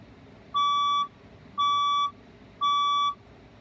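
A building fire alarm sounds its evacuation tone: three identical loud electronic beeps, each about half a second long, evenly spaced about a second apart over a low background hum.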